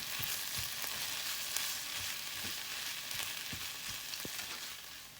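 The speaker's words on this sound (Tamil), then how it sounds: "இப்போ நல்லா மிக்ஸ் பண்ணிக்கலாம்." Leftover dosa pieces being stir-fried and mixed with softened tomatoes in a hot pan for kothu dosai, a steady oily sizzle broken by irregular scraping and tapping of the spatula against the pan.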